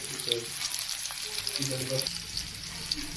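Onions and chillies fry in hot oil with a steady, close, crackling sizzle throughout, and a faint voice is audible underneath.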